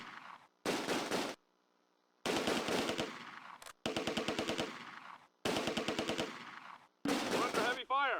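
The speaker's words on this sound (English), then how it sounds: "the firefight continues with an Aufklärer squad near the doctor's office objective" Bursts of machine-gun and rifle fire crackle in a Close Combat: A Bridge Too Far firefight around Veghel town, coming in loud rapid volleys separated by short silent gaps, with a brief shouted voice near the end.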